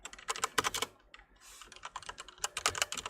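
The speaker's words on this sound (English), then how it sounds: "I try really hard not to say it out loud, the password, while I'm typing it." A password is typed on a computer keyboard in quick clustered bursts of crisp key clicks, close up, with a brief pause in the middle and no voice.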